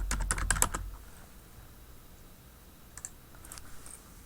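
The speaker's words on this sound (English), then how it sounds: "So I've typed in a first and last name" A quick close burst of computer keyboard typing enters a student's first and last name, then the room goes quiet before a few scattered later key clicks.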